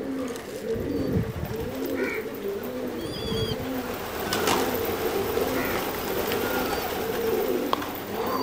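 Pigeons coo steadily in a loft during a pigeon fight, a low, repeated rolling call over constant background noise, with a few higher chirps and whistles above it.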